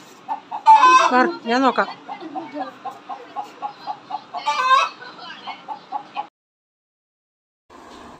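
Chickens clucking and squawking close by in a busy burst, with a loud rooster-like call near the start and another flurry midway, then the birds fall quiet; a person speaks briefly among them.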